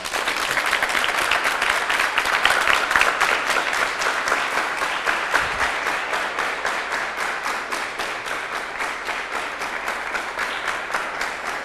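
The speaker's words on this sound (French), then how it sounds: "accueillir avec moi sur ce plateau notre expert du jour dans un tonnerre d'applaudissements" A TV studio audience applauds to welcome an expert onto the set, loud, dense clapping with a slightly rhythmic pulse that continues unbroken and gradually eases.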